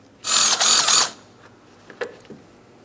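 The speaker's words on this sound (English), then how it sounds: "you're going to find along each side of the vehicle a 10mm bolt. Let's remove that bolt. Same thing on the other side." A ratchet spins out a 10mm bumper bolt on a Chrysler Town & Country minivan: a brief, loud, rapid clicking burst, followed by a few faint taps and clinks.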